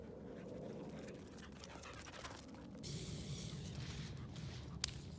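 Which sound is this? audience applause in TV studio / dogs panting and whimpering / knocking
dogs panting and whimpering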